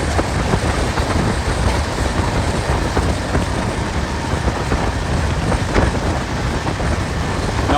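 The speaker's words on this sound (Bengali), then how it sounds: "আমি আছি এই মুহূর্তে এখন নিউ জলপাইগুড়ি জংশন রেলওয়ে স্টেশনে" A train at New Jalpaiguri Junction railway station gives off a loud, steady rumble with faint rhythmic clatter and wind buffeting, continuous throughout with no voices.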